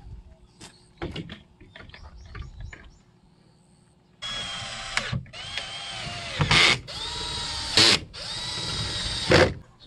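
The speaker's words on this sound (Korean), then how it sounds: "방충망 테두리에 그 철제 프레임이 들어가 있으니까 직결 피스를 사용하겠습니다." A power drill drives self-drilling screws into the steel-framed border of a window screen; soft handling noises first, then several loud close bursts of whirring and ratcheting, each screw running in briefly before stopping.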